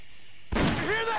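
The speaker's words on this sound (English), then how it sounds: "You hear that? Gunshots!" Gunfire in a video game breaks out suddenly after a quiet stretch, a loud burst of shots with a whine over it, heard alone.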